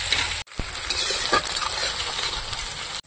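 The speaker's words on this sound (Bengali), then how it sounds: "পেঁয়াজটা একটু ভেজে নেব।" Chopped onion fries in hot oil with a continuous moderate sizzle, broken by a sharp clatter and brief dropout early on, then steady hissing with occasional scrapes.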